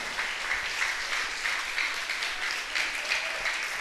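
A church congregation applauds during a worship service, a steady, dense wash of clapping that holds evenly from start to finish with no voices rising above it.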